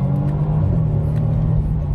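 A car at full throttle on the way to the New York Auto Show gives a loud, steady engine drone heard from inside the cabin, continuous for the whole moment.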